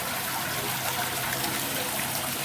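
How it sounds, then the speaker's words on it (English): Water flows freely from a well outdoors, a continuous broadband gush and trickle that stays loud and close, with no voices heard. "Delicious water flowing freely."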